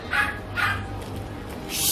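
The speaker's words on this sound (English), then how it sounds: "that is a dog bark." A dog barks a few times in short, sharp bursts over a steady low background hum, fairly near and moderately loud.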